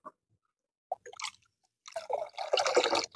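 Amino acid fertilizer is stirred into water, giving a few isolated liquid drips and clinks and then a burst of sloshing, swirling splashes.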